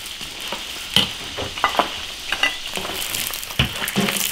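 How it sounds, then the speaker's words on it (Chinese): Pig trotters deep-frying in plenty of oil in an iron wok give a steady close sizzle and crackle, with sharper spattering pops and occasional stirring scrapes throughout. "把猪脚炸下，去除它的油脂，炸一下，把它皮收紧，"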